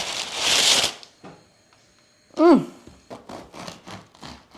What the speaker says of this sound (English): whilst Jodie is stirring that, I shall cut the sourdough